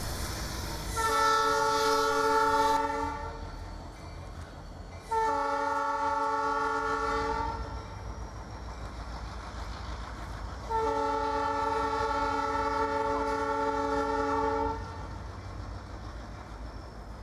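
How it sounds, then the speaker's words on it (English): A train horn sounds three long blasts at the Highway 20 railroad crossing, with a pause between each, loud and close, over a low rumbling train. "let's watch as the train blows for the Highway 20 railroad crossing"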